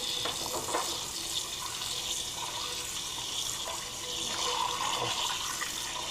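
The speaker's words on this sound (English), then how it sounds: "I'm just going to run some cold water in here till it's right there at the rack." Cold tap water running steadily into a cooking pot in a home kitchen, a continuous splashing rush for several seconds with no talk over it.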